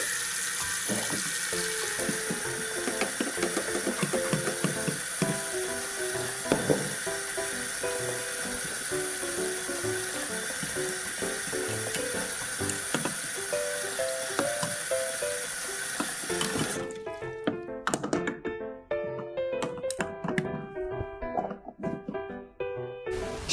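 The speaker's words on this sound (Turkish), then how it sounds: "Şimdi onları güzelce yıkıyorum." Tap water runs steadily while flowers are washed under it as part of a toy tea-making game, a continuous broadband rush that stops near the end, followed by quieter clinks and handling sounds.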